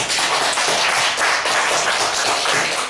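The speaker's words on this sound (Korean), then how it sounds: "먼저 우리 하나님께 감사의 박수를 올리고 싶습니다" A church congregation at a Sunday service in Anyang claps their hands together, a dense continuous patter of many hands that stays loud and even throughout.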